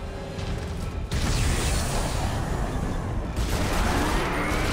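Weapon fire in Dead Space 2 sci-fi horror combat, a steady, moderately loud run of shots and mechanical clatter that briefly cuts out before resuming, with no talk.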